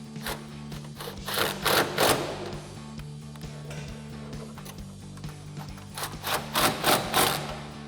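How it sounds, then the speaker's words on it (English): Ratcheting 13mm socket on a swivel tightening exhaust hangers under an HEMI Challenger with an MBRP cat-back exhaust; repeated close clicking bursts in quick clusters, loud and alone, with a steady hum underneath. "Now we can tighten both of our hangers up with a 13mm socket and a swivel socket."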